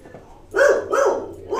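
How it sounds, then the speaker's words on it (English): A dog barks indoors in a quick run of three loud, close barks, the last one cut off. The barks rise sharply over a quiet room with a faint hum. "something woke up our dog?"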